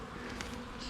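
Small honeybee swarm buzzing steadily in a bee yard near a new hive box, a dense continuous drone from many insects, close and fairly faint, with no talking.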